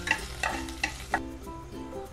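Chopped ginger and garlic fry in oil in a kadai under a soft sizzle, with four distinct scraping stirs of a spatula in the first second and a quieter, steadier frying hiss after.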